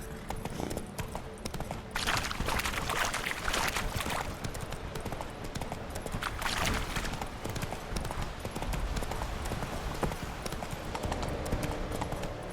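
Horse hooves clip-clopping in The Witcher video game, a steady rhythmic trot of clear repeated hoofbeats heard close and moderately loud over faint ambient game sound, with no talking.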